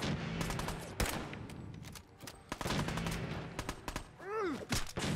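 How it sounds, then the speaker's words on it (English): Gunfire rings out in Fallout 4 on PC, with sharp rapid shots in irregular bursts, some close and loud, others quieter, against a low ambient background; one warbling descending effect sounds near the end. "I was shooting the wrong guy"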